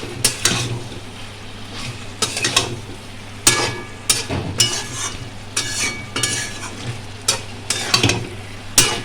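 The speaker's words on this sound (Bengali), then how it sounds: "এবার আমি এগুলোকে একসাথে মিক্স করে নামিয়ে দেবো" Eggplant curry is stirred and mixed in a pan over a low sizzle, with repeated scraping and clattering strokes of a spoon against the metal at an irregular rhythm, close and clear.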